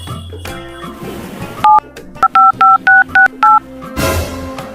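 A mobile phone keypad sounds a quick run of dialing tones, about seven short evenly spaced beeps after some background rustle, fairly loud and close.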